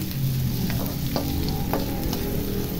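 Onions and garlic stirred in a frying pan for a spicy white salmon dish, a steady close sizzle broken by a few scraping spoon strokes, with no talking.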